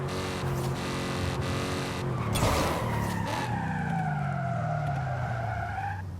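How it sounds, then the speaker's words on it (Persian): A 2008 BMW M3 brakes hard from 200 km/h on an open road, its tyres skidding in a long loud screech as the engine note falls steadily while the car slows. "با سرعت 200 کیلومتر میریم تست ترمزش هم میگیریم."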